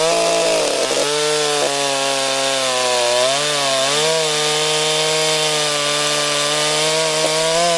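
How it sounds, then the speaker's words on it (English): A Stihl 064 chainsaw cutting a big log, its engine holding a loud, steady high whine that bogs and rises slightly as the bar works through the wood, close and continuous with no talk. "I do like to run my chainsaws, and today it'll be interesting to see how this one runs."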